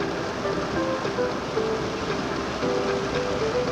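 Steady rain falls in Charleston, South Carolina, a constant dense hiss filling the clip at fairly high level, with faint tonal hum beneath and no talking.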